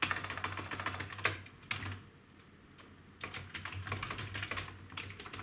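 Quick clicks of keypad keys being pressed in uneven bursts, close and fairly quiet, with a short pause in the middle and no talking.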